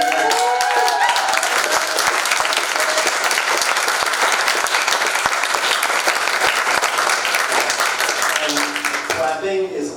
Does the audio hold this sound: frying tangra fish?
no